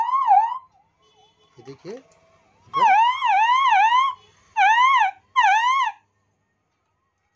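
Police and ambulance siren sounding from a repaired siren amplifier on a workbench, rising and falling wails in several bursts with gaps between them, loud and close, a brief word spoken before it starts.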